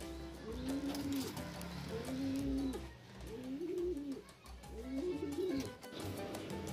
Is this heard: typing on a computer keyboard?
no